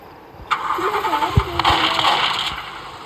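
A vehicle engine cranks and starts in the Roblox game Dead Road, catching after a short whirring start and then running steadily, with a voice talking over it.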